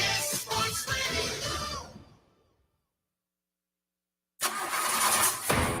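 A car engine cranks repeatedly without catching, a loud, rhythmic starter grind that cuts to silence for about two seconds before cranking resumes, with no voices.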